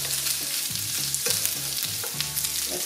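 Leftover pulled pork warms and browns in a pan, a close, lively sizzle with rhythmic stirring scrapes every half second or so.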